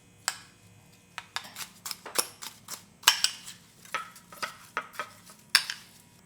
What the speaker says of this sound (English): We gotta add rice and mix.